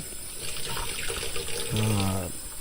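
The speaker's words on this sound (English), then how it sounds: "You're gonna wash your red onion." Running tap water splashes over a red onion being washed in a kitchen sink, a steady mid-level wash of flowing water that swells briefly near the end, with a person talking quietly underneath.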